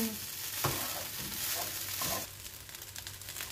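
Rice and egg are stirred in a hot frying pan with water added, giving a steady close sizzle broken by scraping stirs of the spatula.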